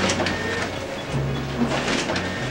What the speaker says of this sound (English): In post production, in fact, we tried to augment the sound of that copy machine.